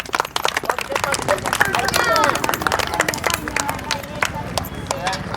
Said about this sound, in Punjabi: ਤਾੜੀਆਂ ਮਾਰੋ ਤੁਸੀਂ ਸਾਰੇ ਜਣੇ